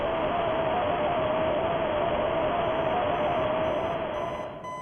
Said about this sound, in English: his alarm blaring in his ears